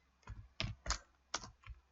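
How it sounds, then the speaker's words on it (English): Typing on a computer keyboard, heard as a handful of distinct, close key clacks in an uneven rhythm, with short pauses between strokes and no voices. "I type those words here"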